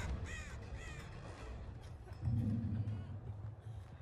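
Crows cawing in the horror game Dead by Daylight, a few harsh calls at moderate distance over a low ambient rumble, with a deeper swell of background noise joining partway through.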